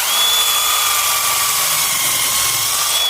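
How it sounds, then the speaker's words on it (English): A power drill pre-drilling a hole for window blinds whines steadily at high pitch, close and loud, running continuously with no pauses. "I'm going to do my pre-drill."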